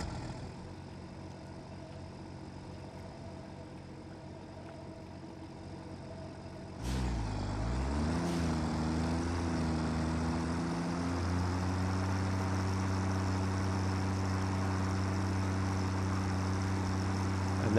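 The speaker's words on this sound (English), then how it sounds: "let's go get the tractor." Tractor engine in the video game Satisfactory starting up partway through, a low droning rumble that rises and shifts pitch then settles into a steady hum, loud and close.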